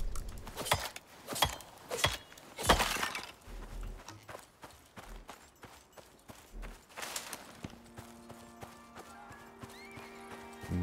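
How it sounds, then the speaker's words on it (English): A horse-like creature in the Icarus survival video game, with a loud neigh and rhythmic clip-clop of hooves that fade into steady game ambience with tonal hum. "Might have just been one of the horse things."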